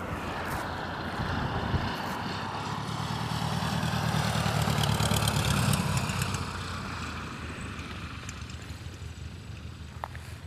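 A 7BCM Champ light airplane idles at a fly-in, its steady low engine purr running continuously for about ten seconds, swelling slightly in the middle before easing off, with broad outdoor background noise.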